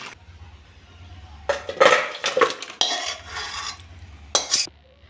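A cooking pot of fish-head and potato curry comes off the stove with clattering metal clanks and a scraping ladle over a low stove hum, with sharp knocks near the end.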